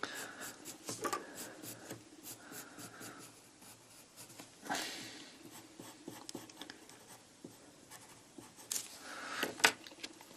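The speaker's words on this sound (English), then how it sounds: "using a pencil, I'm going to sketch in the shape of this e to the x graph" A pencil sketches a graph on paper, with faint, close scratchy strokes in short bursts separated by brief pauses, quiet and intermittent.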